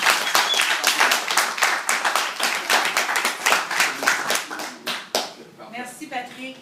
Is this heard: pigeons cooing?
no